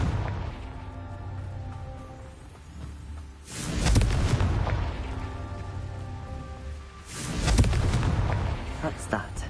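Blasting curse explosions in the video game Hogwarts Legacy burst out as two loud, rumbling booms with crackling debris, each swelling and fading over a few seconds, over a continuous background of game ambience.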